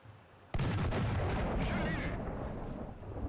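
A tank cannon fires a high-explosive shell in the War Thunder video game, a French ARL-44 or AMX-50 tank: one sudden, loud blast that settles into a long rumbling decay.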